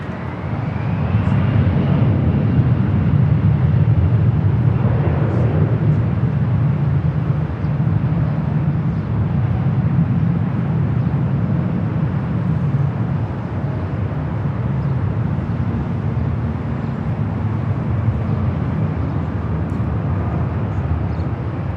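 A Delta Connection CRJ 700ER jet takes off from a runway at Los Angeles LAX airport, its engines roaring loud and steady throughout in a broad, sustained rumble with no talk.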